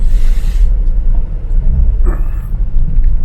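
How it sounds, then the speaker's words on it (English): A Mk3 Ford Cortina engine pulls under acceleration as the carburetor's second choke opens, giving a loud, steady low induction roar heard from inside the car, with a brief hissing surge partway through. "We've never had that induction noise on this car"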